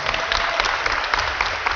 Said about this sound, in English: One more round of applause for all of our sponsors.